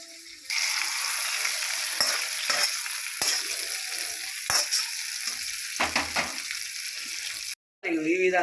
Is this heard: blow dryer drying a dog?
no